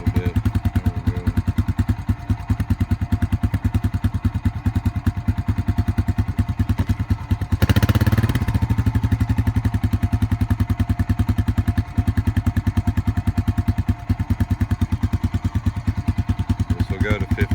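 A small engine with its idle turned up, running on a supercapacitor battery replacement, gives a fast even pulsing chug close by, with a brief louder burst partway through, while someone talks over it.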